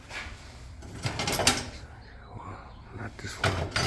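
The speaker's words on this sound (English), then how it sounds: "let me open up this door to show you" The door of a 1966 Chevrolet Biscayne being opened, heard as a few clunks and latch clicks at close range amid some handling noise, with a person talking nearby.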